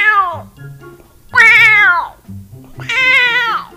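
Three loud, close meow-like calls, each a rising then falling wail, separated by short low-pitched gaps; a motorbike horn that sounds like a cat meowing.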